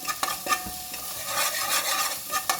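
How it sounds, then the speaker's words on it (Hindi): Ginger garlic paste is stirred and sautéed in a pan as the base for a chicken soup, giving a soft, continuous sizzle broken by a few sharp spoon scrapes and taps. No one speaks. "अब इसमें मैं 1/2 टीस्पून अदरक लहसुन का पेस्ट शामिल कर दूंगी, ऐसे इस तरीके से इसको हल्का सा सौते करेंगे।"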